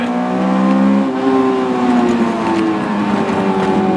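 Engine of a Honda S2000 AP1, a 9000 RPM four-cylinder roadster, revving loud and close with a steady high-pitched wail that rises and holds for several seconds, no voices.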